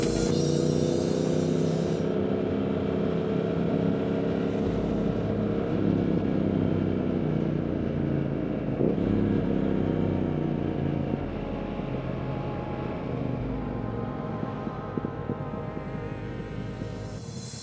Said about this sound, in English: The Speed Twin has a unique, throaty roar when accelerating